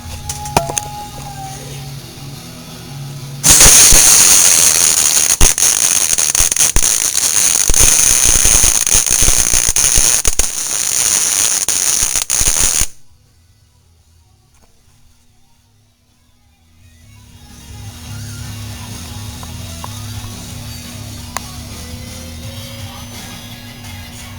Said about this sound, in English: this is where we get serious with the welding and whatnot